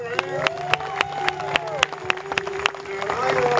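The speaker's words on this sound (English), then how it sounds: "Come on, clap your hands." Rhythmic clapping from a church congregation at an outdoor church-in-the-park service, loud sharp claps on a steady beat over music and crowd noise, building into broader applause near the end.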